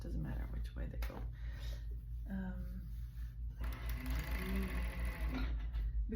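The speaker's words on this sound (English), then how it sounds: "now I like to give the bottom edge a good sew over" A sewing machine runs in short rattling bursts while stitching over the bottom edge of a pair of underwear, with someone talking over the mechanical whir.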